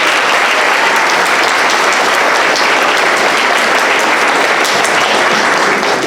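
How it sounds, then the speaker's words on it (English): An audience at an 8th grade academic awards ceremony gives a sustained, dense round of applause that stays even and continuous throughout, with no voices heard. "Give yourselves a round of applause."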